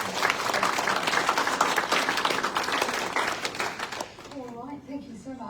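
An audience applauds to welcome a speaker at a multiple sclerosis talk, with full, dense clapping for about four seconds that then stops abruptly as a voice begins speaking.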